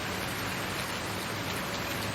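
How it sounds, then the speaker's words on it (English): Heavy rain falls in Farming Simulator 19 as a continuous, uniform hiss of drops, steady and moderately loud with no talking. "Whoa, that rain."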